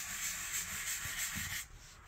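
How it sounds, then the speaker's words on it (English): Steady close scratchy rubbing of a sponge sanding a wall, continuous strokes for most of the clip before easing off. "she's sanding with her sponge"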